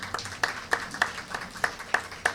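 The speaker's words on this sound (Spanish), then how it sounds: "Vamos a darle un fuerte aplauso a nuestro Señor y Salvador Jesucristo." A church congregation claps in a steady rhythm of sharp, fairly quiet hand claps, roughly three per second, with no talk over them.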